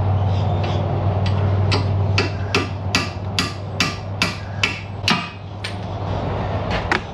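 A mallet strikes a car's strut knuckle about ten times in a steady rhythm. The sharp, ringing metallic blows are close and loud, over a constant low shop hum.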